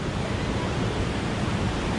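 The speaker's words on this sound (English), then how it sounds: "The falls coming down through here are just pretty amazing." A waterfall on a river in Glacier National Park pours in a steady, dense roar of rushing water that fills the whole scene without pause, close and loud, with no voices.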